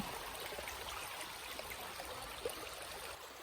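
A river flows steadily, a soft continuous rush and trickle of water with no voices.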